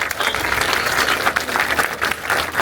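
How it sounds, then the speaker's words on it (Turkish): A crowd of listeners bursts into applause at an outdoor culture and nature walk launch in Milas, with dense, lively clapping throughout at a strong, steady level. "Bence bir alkışlayalım."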